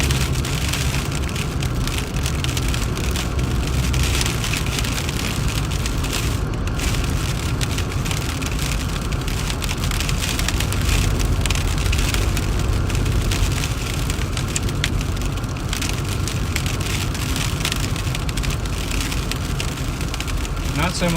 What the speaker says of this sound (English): we're getting that rain now.